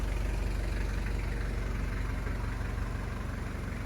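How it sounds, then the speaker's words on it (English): A Toyota Land Cruiser's 1KZ 3.0L turbo diesel idles steadily inside a large enclosed building, a dense low clatter with a constant even rumble that stays close and unbroken throughout. "So we're actually in an enclosed building running a diesel."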